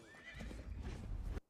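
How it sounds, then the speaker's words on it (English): A video game horse trots with quick clip-clop hoofbeats and lets out a whinny near the start, close and fairly loud, with no talk over it before it cuts off abruptly. "You just see a horse travel across the zone."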